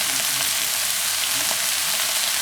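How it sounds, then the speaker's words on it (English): Onions sizzle loudly in a hot pan, a dense, constant crackling hiss with no talking over it. "These onions, you hear that sound now? You hear that sound, cracking sound?"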